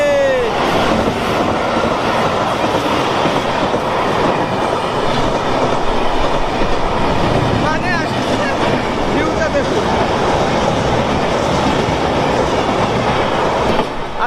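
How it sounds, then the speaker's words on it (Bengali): A passing train heard from another train waiting at a crossing, a loud continuous rumble with rhythmic clickety-clack of wheels and brief squeals, close and steady throughout. "এই যে একটা ট্রেন যাচ্ছে"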